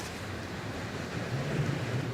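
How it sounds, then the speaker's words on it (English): Ocean waves and steady wind at sea beside a 400 m container ship, a continuous low rushing wash with rising swell surges, close and fairly loud, no voices. "With these kinds of waves, interesting."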